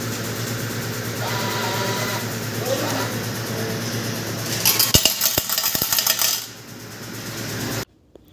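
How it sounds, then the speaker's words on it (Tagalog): Coins clatter out of an automatic coin change machine in a laundromat, a burst of rapid metallic clinks piling up over a steady machine hum, close and loud before cutting off. "Mayroon silang mga automatic machine dahil barya ang kailangan. So magpapalit tayo."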